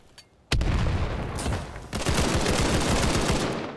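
Rapid gunfire and a grenade blast in Call of Duty, sounding as a dense, loud burst of shots after a short quiet start, followed by sustained rattling fire.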